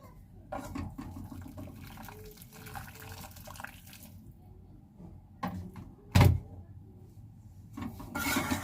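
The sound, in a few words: washing a wok with hot water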